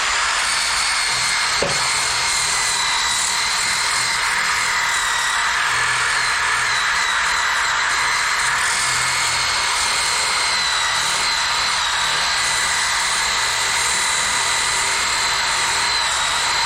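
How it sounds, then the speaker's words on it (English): A power sander whines loudly and steadily against rusty metal on a creeper, a continuous high-pitched grinding hiss that never lets up. "I've got most of it sanded."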